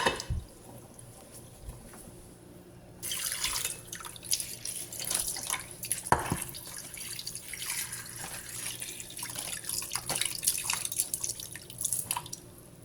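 Running tap water splashes and drips as fish is rinsed in a kitchen sink, the flow turning on after a few seconds and continuing with irregular splashes, close and fairly quiet, without speech.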